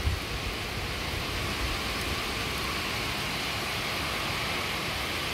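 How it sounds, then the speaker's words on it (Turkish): Heavy rain pours down steadily, a dense, even wash of broadband hiss that holds constant throughout with no talk over it. "şimdi çok şiddetli bir yağmur başladı"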